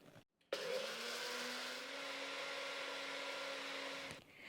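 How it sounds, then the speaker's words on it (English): A blender whirs at a steady high speed, grinding gluten-free oatmeal into fine flour. The loud motor whine holds for about four seconds after a brief start-up and then cuts off, with no speech. "we're going to blend it until it becomes a very, very fine flour"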